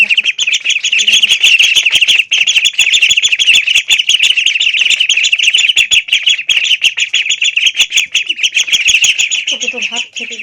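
Chicks chirping steadily while being called for feeding, a loud close chorus of high peeps with a few brief voice sounds beneath.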